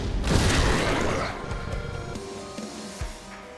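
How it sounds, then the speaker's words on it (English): An explosion in The Last Spell game bursts with a loud, rumbling boom that decays into crashing debris, followed by a few smaller thuds, near and heavy. "I still have one explosion left"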